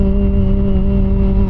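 A Peugeot Django 150i scooter engine holds a steady, humming tone with strong low harmonics as it pulls away, loud and close-miked, with no talking.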